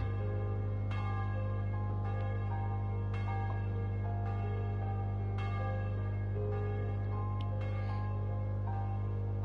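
A church bell tolls in Trails of Cold Steel III, several slow, evenly spaced strikes ringing out over a steady low drone, each note lingering into the next.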